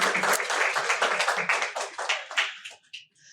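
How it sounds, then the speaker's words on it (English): A brief burst of applause from a small group, dense clapping that thins out into a few final claps. "A round of applause for her."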